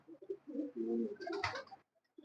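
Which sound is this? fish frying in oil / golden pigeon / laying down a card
golden pigeon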